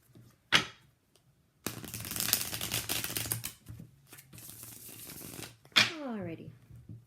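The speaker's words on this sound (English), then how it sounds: "Shuffle one more time." A deck of tarot cards being shuffled close up, with a long run of rapid riffling flutters followed by a few shorter bursts and a soft card slap, heard alone and fairly quiet.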